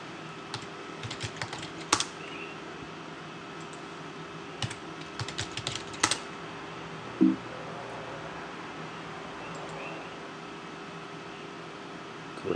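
Someone types a password on a computer keyboard in short quiet bursts of key clicks, with pauses between them, over a steady faint background hum.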